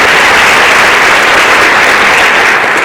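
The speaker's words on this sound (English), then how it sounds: "so let's give them a round of applause." A crowd at a high school's 8th grade parent enrollment presentation applauds school counselors, a loud, dense, continuous wash of clapping from many hands with no gaps.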